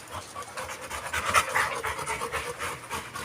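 An American bully dog pants rapidly and close by, a continuous rhythmic huffing with no talking over it.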